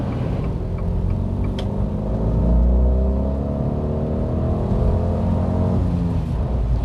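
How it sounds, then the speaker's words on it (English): A Fiat 500 Rockstar's small engine thrums steadily and loud up close from inside the cabin, rising in pitch as it accelerates, with road rumble beneath and no talking. "it makes a pleasing thrum as you drive along"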